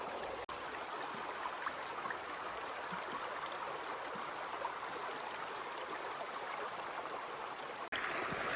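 A creek with salmon eggs in its bed flows steadily nearby, a broad, even rushing and burbling wash of water that never pauses, with no voices.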